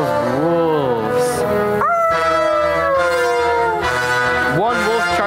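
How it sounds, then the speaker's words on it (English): Wolves howling in a forest setting, long wavering howls rising and falling one after another, loud and close, with layered overlapping tones and no clear growl. "Belle heard the low and menacing growl of wolves."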